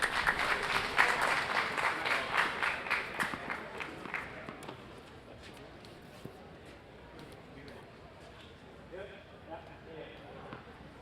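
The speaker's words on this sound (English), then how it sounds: "This crowd's getting impatient for Leander and Joe to get going." Crowd at a tennis doubles final claps in a rhythmic, impatient beat that is loud at first, then fades to scattered claps and murmurs in a large arena, with people talking underneath.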